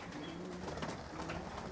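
Pigeons cooing in a loft: faint, low, steady cooing that blends into a hissy background, with no voices.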